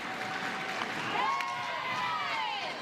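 A sellout crowd at a softball stadium in Portland cheers and shouts in support of the pitcher, a dense, sustained roar with whistles rising above it, heard at a distance and filling the whole moment.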